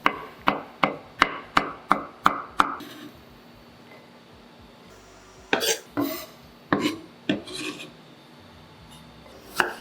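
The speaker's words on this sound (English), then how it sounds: "Chop 2 cloves of garlic." A knife chops garlic cloves on a cutting board, with seven crisp, evenly spaced strikes in quick succession. After a pause, a few more irregular chops and scrapes follow, close and clear with no talking.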